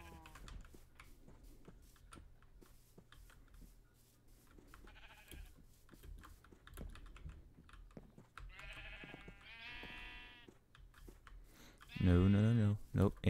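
Sheep bleating in Minecraft while sheep are herded into a pen, several bleats near the end, loud and close, following a stretch of quieter game noise and key clicks under people talking.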